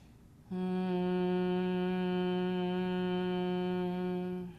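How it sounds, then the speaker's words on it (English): A steady, sustained hum from a single voice held through a full exhale in Brahmari (humming bee) yoga breath, rich in harmonics and unbroken for about four seconds before fading, close and alone. "So Brahmari breath is our humming bee breath."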